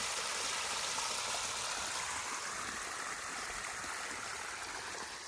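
Steady rushing water from a lake flows continuously, a dense, even wash of sound with no voices.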